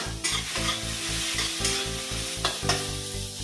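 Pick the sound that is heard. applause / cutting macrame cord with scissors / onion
onion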